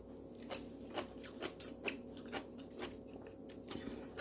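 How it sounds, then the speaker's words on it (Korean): Close-up chewing of onion curry rice with crunchy kimchi, a run of soft repeated bites and crunches at an even rhythm, with no talk. "이번 김치랑 먹어보겠습니다."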